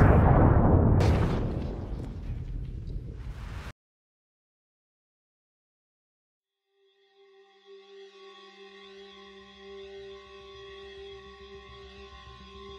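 The 1917 Halifax explosion, a cargo ship carrying acid and explosives detonating in the harbour, rendered as a loud roaring blast with a sharp second burst that rumbles for several seconds and cuts to silence before tonal music rises.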